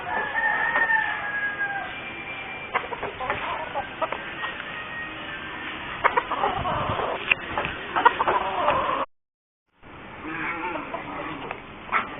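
Siam breed gamecock roosters crow across a Philippine farm after Typhoon Glenda, with repeated fairly close crows mixed with clucking and other farm animals. The sound breaks off briefly near the end.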